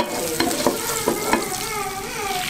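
Butter sizzles steadily in a frying pan as an omelette is being made, a continuous broadband hiss with a few sharp pops and utensil scrapes over its length, fairly close and with no talking.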